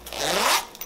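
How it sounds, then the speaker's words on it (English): A zipper on a fireproof safe bag for documents and cash is pulled open in one quick, close stroke lasting under a second. "unzip it,"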